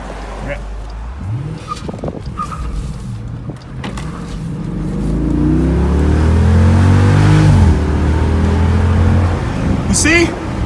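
A roughly 480-horsepower car engine revs and accelerates hard, its pitch climbing and growling louder toward the middle before easing off, with people talking nearby.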